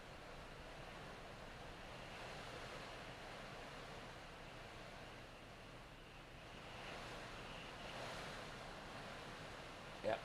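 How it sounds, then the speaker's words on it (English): Strong storm wind roars steadily across the microphone during heavy rain in the Fort Myers area of Southwest Florida, a dense, continuous rushing noise with a slight swell near the end and no talk. "there was a 25 mile an hour wind gust"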